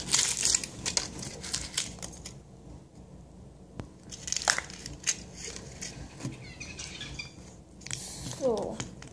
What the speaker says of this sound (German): ich würde mal sagen, ich tue sie jetzt mal auspacken